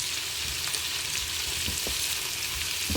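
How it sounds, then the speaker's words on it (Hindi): Ginger and garlic sizzling steadily in a hot pan, a constant close hiss of frying with occasional soft stirring scrapes. "इसको ज़रा सा भून लेंगे, उस वक्त तक भूनेंगे जब तक इसकी ज़रा कच्चापन ख़त्म हो जाए अदरक लहसुन का"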